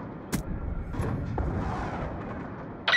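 Hellfire missile strikes from a drone in the video game Black Ops 2, with a sharp blast burst and rolling booms that give way to a rumbling, distant-sounding impact, then another sharp hit at the end.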